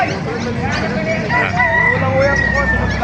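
Roosters crowing at a roadside animal market in Calumpit, loud and close, with several overlapping cock-a-doodle-doo calls and clucking over a busy background of voices.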